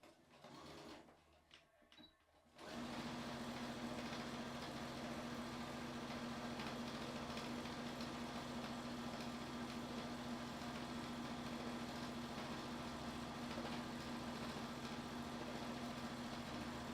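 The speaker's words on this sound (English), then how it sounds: "I'm going to start sewing just a couple stitches and then back stitch, and then keep sewing until I reach the opposite end" A sewing machine stitches fabric with back stitches, starting after a couple of seconds of handling noise, then a close, steady, continuous motor whir with rapid needle rhythm running to the end.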